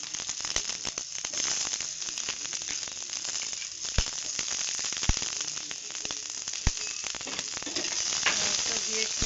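Onions frying in hot oil with dried red chillies and cumin, a steady close sizzle running throughout with occasional sharp pops and crackles, no talking.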